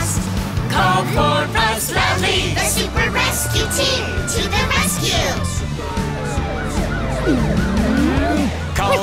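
Ambulance siren in a cartoon rescue show, wailing with rising and falling sweeps over busy music and effects, with voices speaking and calling out throughout.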